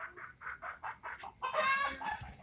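A hen clucks in a thatch-roofed laying coop: a quick run of evenly spaced clucks, close and clear, then a louder, drawn-out squawking cackle.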